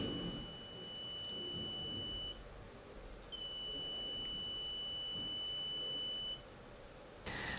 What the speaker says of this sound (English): Let's upload the sketch and hear it in action.